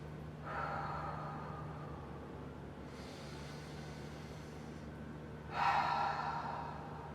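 Slow, deep breaths during a stretching exercise for SI joint and sciatic pain, a long airy inhale and exhale followed by another stronger breath, close and soft over a low steady room hum.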